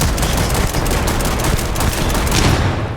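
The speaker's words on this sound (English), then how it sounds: "or simply blow the bad guys away with a shotgun" Dense, loud gunfire crackles in the space game Starfield, shotgun blasts merging into a continuous close barrage with no talk.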